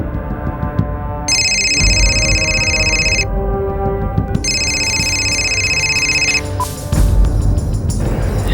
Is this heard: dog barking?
no